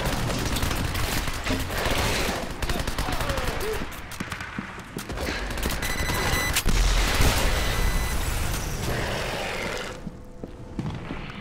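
Dense, rapid video-game gunfire fills the stretch, with bursts of automatic fire and heavy booming shots running almost continuously, loud and close, before tapering off near the end.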